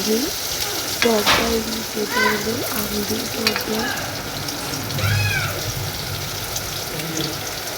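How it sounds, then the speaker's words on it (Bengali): Okra frying in a pan in a Bengali village kitchen, a steady hiss of sizzling oil heard under a voice talking throughout. "আমি এদিকে ঢেঁড়সটা ভেজে নিচ্ছি"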